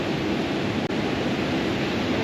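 Steady broadband rushing of a waterfall in a rocky fishing area, continuous and fairly loud, with one brief dropout and no talk.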